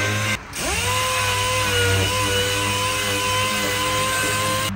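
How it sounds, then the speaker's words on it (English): A power tool whirs loudly and continuously with a steady motor hum, spinning up after a brief dip near the start. "So he's just sanding it down."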